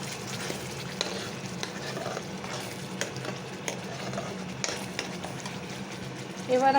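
Spice paste of ginger, green chili, tomato, cashew, raisins and melon seeds sizzling and frying in a pan for shahi paneer, a steady close crackle with stirring scrapes, under a speaking voice.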